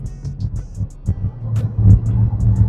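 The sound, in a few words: used cruiser car engine running as it is taken for a ride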